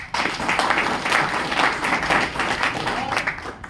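A crowd applauds during a business plan presentation, thick continuous clapping filling the room at an even, loud level for a few seconds.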